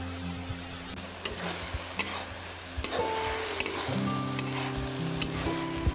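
Grated apple and jaggery get stirred in a pan with refined oil for halwa, giving a soft sizzle with scraping strokes and light clinks of the spoon against the pan, close and with no talking.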